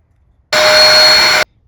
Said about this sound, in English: why not vacuum?